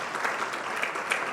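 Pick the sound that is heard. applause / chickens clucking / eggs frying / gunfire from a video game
applause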